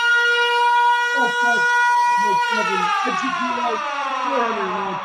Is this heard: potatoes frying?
no